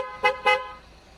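Two quick toots from the horn of a 2021 Cadillac XT5, close and loud, a short pause between them before the sound dies away.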